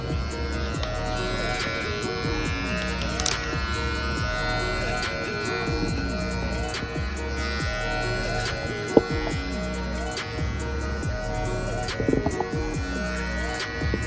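Electric hair clippers buzz steadily through a fade haircut, a close, continuous hum with small shifts as the blades move through hair, and faint voices in the background.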